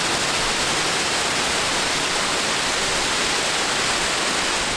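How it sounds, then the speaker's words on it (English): A waterfall cascades down a fjord cliff face in a dense, constant roar of rushing water that stays loud and unbroken throughout, with no voices. "The sound of the water cascading down the cliff face was absolutely astonishing."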